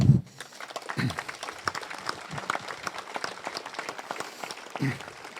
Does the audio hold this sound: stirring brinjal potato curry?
no